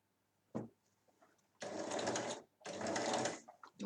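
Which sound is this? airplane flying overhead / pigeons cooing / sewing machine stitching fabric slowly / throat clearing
sewing machine stitching fabric slowly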